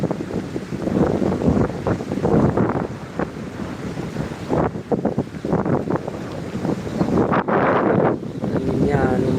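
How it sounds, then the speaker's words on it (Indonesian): Strong gusts of wind buffet the microphone at a rainy sunset by the water, a loud continuous roar with surging rushes and faint waves beneath. "Anginnya lumayan sampai begini."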